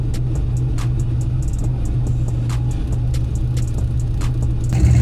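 A turbocharged junkyard 5.3 V8 race car driving under power, a loud continuous engine rumble heard from inside with steady droning and a rise in intensity near the end.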